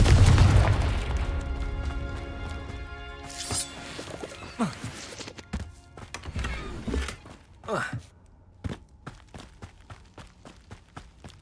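A fiery spell explosion bursts in a fantasy video game fight against poachers, a loud boom at the start fading out, followed by scattered impacts, running footsteps and bursts of combat effects, with voices.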